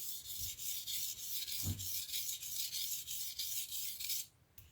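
A blade rubbed back and forth on a 400 grit sharpening stone, giving a steady close-up rasping scrape with rhythmic strokes that stops abruptly near the end.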